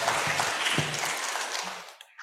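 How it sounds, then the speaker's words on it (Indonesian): Steady applause from a crowd fills the room, then fades out toward the end. "Tepuk tangan untuk Tuhan Yesus."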